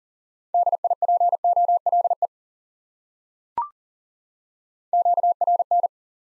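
Morse code tones on a single steady pitch key out the word noise in a quick run of dits and dahs. A soft click follows, then a shorter burst of tones, clear and alone with no voices.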